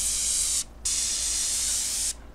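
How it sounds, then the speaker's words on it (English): A close, loud hiss of a paint sprayer turned way down while house painting, in two bursts with a short gap between them. "if you go with your sprayer turned way down,"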